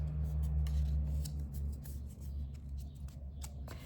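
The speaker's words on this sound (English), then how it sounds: "we will fan fold along the score lines" Paper is fan folded along score lines with soft rustling and light crinkling clicks over a low steady hum, faint and close.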